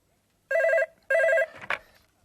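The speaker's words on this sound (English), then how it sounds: "I'll just answer the phone." A classic telephone bell rings twice in the studio, each loud burst lasting under half a second with a gap between, followed by a brief clatter as the receiver is picked up.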